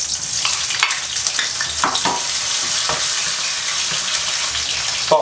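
Scallion, ginger and garlic hit hot oil and are stir-fried, producing a steady, fairly loud sizzle broken by several sharp clacks and scrapes of the spatula against the pan.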